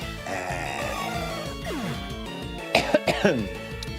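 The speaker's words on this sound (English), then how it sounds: "occasionally you guys are gonna catch a cough" A streamer coughs several times in a quick close burst of sharp hacks during a Pokémon SoulSilver game session, with game music and sound effects playing underneath.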